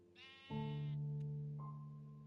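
A sheep in Minecraft bleats once, a wavering, tonal baa heard close and clear over a sustained low musical drone, with no talking.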